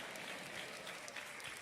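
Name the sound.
audience applause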